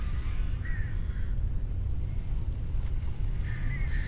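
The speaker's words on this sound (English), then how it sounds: "there is a lot of birds in the sky, which we are going to battle" Crows caw a few times at a distance in the video game Alan Wake, harsh calls rising over steady rumbling wind and a low background drone.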